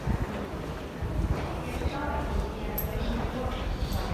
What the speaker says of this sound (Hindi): इतनी तेज़ हवा आपको लगती है मुंह पर